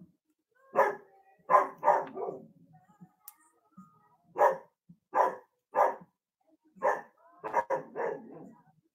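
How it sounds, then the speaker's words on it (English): A dog barks in short bursts of two or three, pausing between groups, fairly close and clear against a quiet background. "My dog is barking now."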